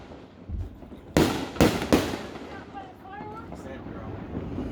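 Fireworks burst over Adams Lake, three sharp booms in quick succession, followed by a crackling tail and some faint background chatter.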